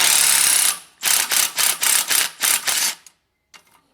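A DeWalt power tool spins off muffler bolts on a 7410 tractor: one long loud whirring burst, then six short ratcheting pulses in quick succession, a pause, and a faint final rattle.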